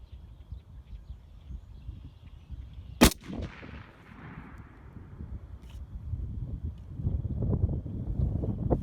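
Steady low wind rumble buffets the microphone outdoors, with one sharp DSA FAL rifle shot cracking partway through and the gusts growing stronger toward the end.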